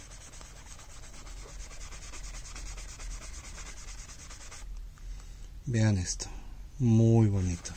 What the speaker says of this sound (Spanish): encontré esta esponja que trae abrillantadores y vean la diferencia